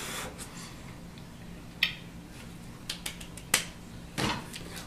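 Several sharp finger snaps made with one hand, quiet and spaced irregularly against a soft background hiss, each a brief crisp click.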